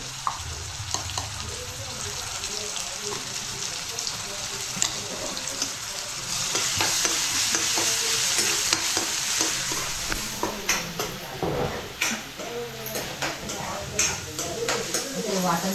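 Ground spice paste cooking in oil while being stirred, a close crackling sizzle with repeated spoon scrapes against the pan, swelling louder midway, with voices chatting at times.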